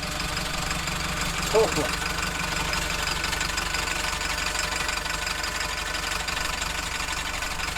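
A Leyland DAF truck engine with a freshly repaired alternator, running at a steady rough idle with a knocking diesel clatter at close range, while someone speaks briefly over it.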